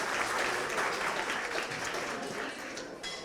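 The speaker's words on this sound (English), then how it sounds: "a round of applause for Alyssa." An audience at an induction ceremony reception claps steadily in a dense, even round of applause that tapers slightly toward the end, with no one speaking.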